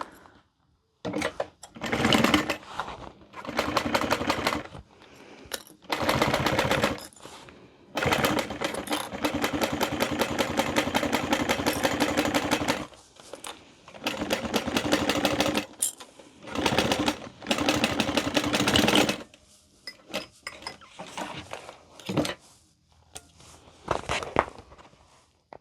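A sewing machine top stitching a handbag, running in repeated rapid whirring bursts of a few seconds each, close and loud, separated by short pauses.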